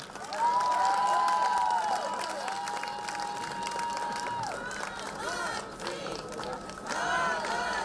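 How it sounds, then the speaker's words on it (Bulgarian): Full applause from a concert audience after the finale of a gala concert at a folk festival in Kavarna, steady loud clapping mixed with high whistles and cheers that swell again at the end. "Аплодисменти!"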